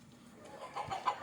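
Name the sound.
country chicken clucking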